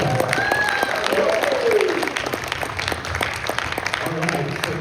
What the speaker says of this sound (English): give a big round of applause for yourself as well